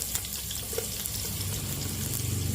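Turmeric and garlic sizzle in hot fried pork fat for a Vietnamese salty turmeric braised catfish, a steady, moderately loud hiss and crackle with no talking.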